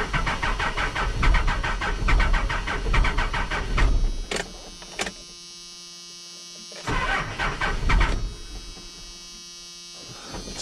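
A Cummins diesel engine pulled from a scrap yard cranks repeatedly in loud, rough bursts, stopping between attempts without settling into a steady run, with a faint hum in the pauses.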